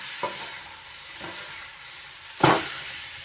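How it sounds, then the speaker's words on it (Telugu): Chicken for orange chicken frying in a pan with a steady close sizzle, broken by a few scraping stirs, one louder stir near the end. "ఈ చికెన్ కాస్త ఇలా ఉడుకుతుంది."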